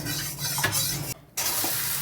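Soybean chunks fry in white oil, a continuous close sizzle with soft stirring scrapes, briefly dropping out for a moment before resuming at the same level.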